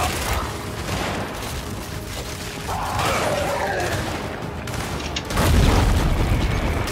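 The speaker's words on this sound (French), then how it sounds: "Je crois qu'ils ont tiré une grenade." Grenade blast in Gears 5 amid constant loud battle noise, with a heavy low boom swelling near the end over sustained roaring game audio.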